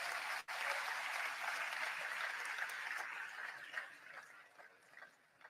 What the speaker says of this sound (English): let's give all the members of the Commission and the staff a round of applause and thank them